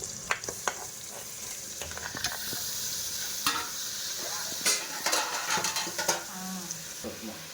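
Mutton pieces sauté with onion, fennel and sesame oil in a pan, a steady sizzle broken by repeated scrapes and clinks of a stirring utensil against the metal.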